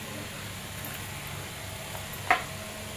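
Bangda mackerel wrapped in turmeric leaf roasting on a hot tawa, a soft steady sizzle throughout with one brief louder crackle near the end.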